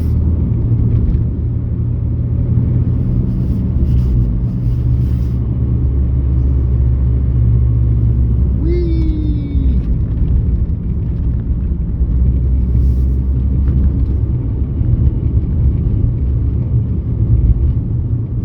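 A small car rumbles steadily along Preston New Road on the way from Preston to Blackpool, with a loud continuous engine and road drone heard from inside the car for the whole stretch.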